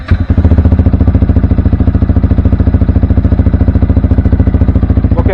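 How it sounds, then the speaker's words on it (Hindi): Yamaha R15 V3 fitted with an Akrapovic full-system exhaust cranks and settles into a loud, close idle, a fast steady pulsing putter with a metallic clatter throughout, unrevved and with no talking. "Let's crank the engine"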